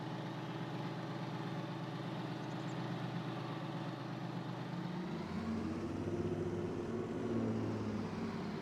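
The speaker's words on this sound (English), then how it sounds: "I just want to get this fired up. Get the old Lodestar warmed up." The engine of a Lodestar tractor idles as it warms up on a chilly day in Farming Simulator 22, a steady low rumble alone and close up, with its pitch and tone shifting partway through.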